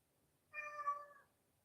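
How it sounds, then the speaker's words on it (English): A house cat lets out a single clear, close meow lasting under a second, alone against near silence. "what are you meowing about?"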